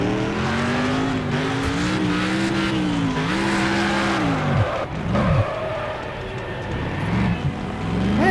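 A car in a car-wrecking video game roars continuously with a rising and falling engine drone, broken by short tire skids and squeals midway and toward the end, loud and steady throughout.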